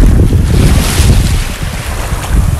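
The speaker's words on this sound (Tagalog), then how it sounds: "Lakas ng alon, guys." Strong ocean waves crash and roar continuously at Gold Coast Beach in Hong Kong, a loud, dense surf wash mixed with blustery wind buffeting the microphone.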